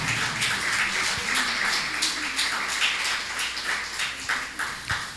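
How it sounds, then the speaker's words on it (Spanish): A church congregation applauds during a sermon: dense, continuous clapping from many hands, steady and fairly loud throughout. "Ríndale palmas a Cristo en esa tarde."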